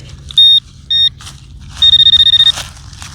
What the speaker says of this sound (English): It beeped just like a half cent.